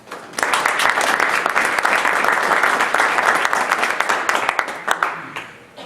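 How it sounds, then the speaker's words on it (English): A round of applause greets a nonprofit presenter at a 1 Million Cups Wichita startup event, a full, steady burst of many hands clapping that starts sharply, holds for several seconds and tapers off. "Let's give him a round of applause."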